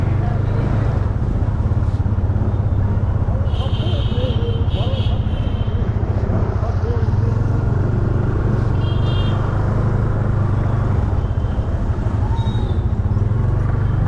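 Car engine drone and road rumble from inside a moving car heading toward Delhi, steady and loud throughout, with faint honks and passing traffic and voices talking over it.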